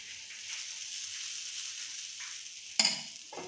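Corn-flour thalipith batter sizzling in oil in a pan, a steady close crackling hiss with a brief sharper spatter near the end.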